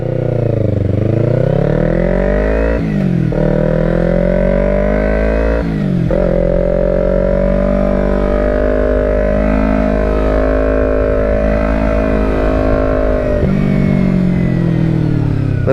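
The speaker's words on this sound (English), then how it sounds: "this is the first ride after I just did the full maintenance on this bike" A 2012 Kawasaki Ninja 250R on the move, its 250cc engine droning loud and close with rising revs and a few brief gear-change dips, steady throughout with no talk.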